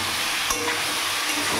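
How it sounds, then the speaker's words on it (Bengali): Ridge gourd being stirred and fried in a wok with turmeric and salt, a steady low sizzle and hiss with a brief scrape of stirring, close and alone. "কড়াইতে একটু হালকা করে নেব, নেড়ে ভেজে নেব"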